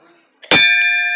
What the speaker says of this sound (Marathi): गुंजनने घंटी वाजवली आता मम्मीने सुद्धा वाजवली